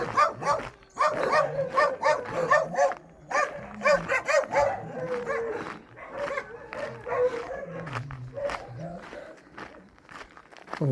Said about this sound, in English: and there's other dogs going crazy